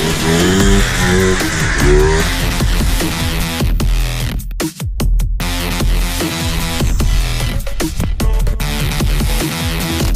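A Polaris Trailblazer ATV engine fitted with a 42mm carburetor runs loud and steady throughout, a dense continuous roar with a brief dip midway before it picks back up.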